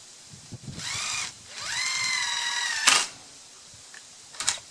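A power drill drives screws into a wooden chicken-coop composter: two close whining bursts, each rising in pitch as the motor spins up, the second longer, followed by a clunk and quiet handling noises.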